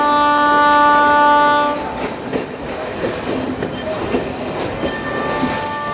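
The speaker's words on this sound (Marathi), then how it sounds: "तुमची ट्रेन जात आहे" An express train departs from a station, a loud sustained horn blast opening the clip, then rolling wheel clatter and rumble with squealing tones continuing to the end.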